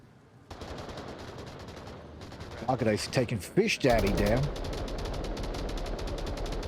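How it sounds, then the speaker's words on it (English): Rapid gunfire in the VR shooter Onward crackling steadily in the background while an announcer talks excitedly over it during a competitive league match. "All the gunfire happening over on the other side."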